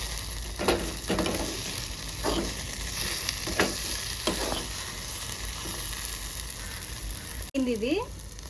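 Goat head curry frying on a low flame, a steady soft sizzle with a few louder stirring scrapes and a brief clatter near the end.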